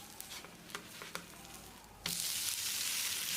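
An adai dosa sizzles on a hot pan right after flipping. Soft scraping taps lead into a sudden, loud, steady hiss that carries on unbroken to the end.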